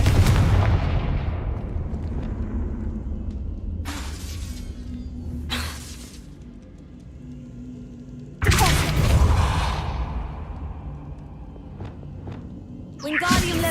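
In Hogwarts Legacy, the Confringo blasting spell detonates in loud, booming explosions: one opens the clip and a second bursts about halfway through. Shattering debris and sharp crackles ring out between them and fade away.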